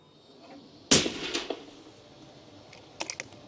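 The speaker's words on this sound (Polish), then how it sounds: "Teraz jeszcze strzał oddany z tego drugiego tłumika" A sharp, muffled crack of a suppressed rifle shot sounds once, followed by a few softer clicks and taps, then a brief cluster of light metallic clicks near the end.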